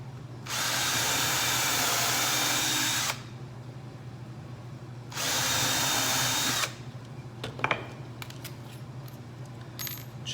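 A power drill drives screws into wood during construction work: two sustained, loud whirring bursts a couple of seconds each, followed by light clinks and small handling taps.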